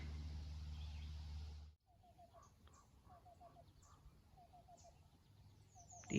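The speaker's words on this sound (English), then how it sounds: "So that's our North American black-billed cuckoo." Outdoors on a quiet garden morning, a North American black-billed cuckoo repeats soft, rapid runs of hollow notes at a distance, with a low hum early on and faint other birdsong around it.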